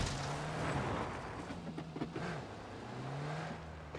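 Car engine in the video game PUBG, droning with a steady low hum that rises and dips as the vehicle drives and turns, with a few short bursts over the top of a busy game soundscape.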